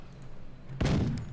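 A heavy weapon, likely a railgun, fires in the Forts strategy game as one sudden loud blast that cuts in sharply and rumbles on with a short roaring tail.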